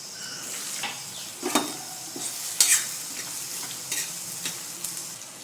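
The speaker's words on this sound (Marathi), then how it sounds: "या हिरव्या मिरच्या कडीपत्ता टाकते कांदा टाकते" Green chilies, curry leaves and onion hit a hot pan already crackling with mustard seeds and cumin, giving a steady close sizzle with scraping stir strokes and a few sharper spatters.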